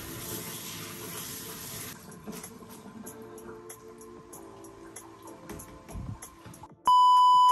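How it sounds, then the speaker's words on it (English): Running water from a sink tap splashes steadily as a bamboo shoot is washed for a sautéed dish, the flow easing partway through, followed by a loud, steady electronic beep at the end. "I will wash the bamboo shoot."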